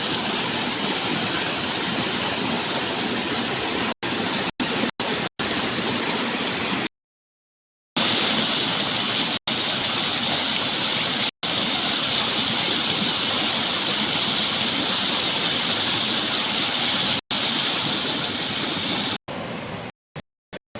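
Loud, continuous rushing water from a rain-swollen stream roars steadily, broken by a few abrupt cuts and a short silent gap.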